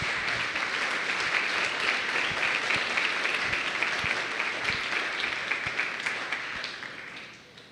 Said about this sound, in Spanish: denle un gran aplauso a nuestro Rey